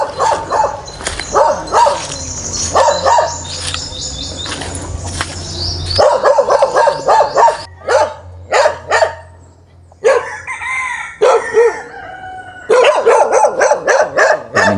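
Several dogs barking outdoors at a fishing spot, repeated loud sharp barks in bursts with short pauses and some yips, fairly close and alone without talk.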